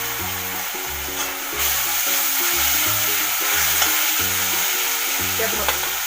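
Tomato paste sizzling and frying in a pan for palak paneer while being stirred steadily, a continuous close hiss with repeated scraping strokes of the spoon and no talking.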